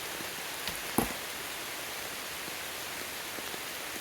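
Steady rain falling outdoors, a continuous even hiss of drops with one brief sharper tap near the start, close and fairly loud with no voices.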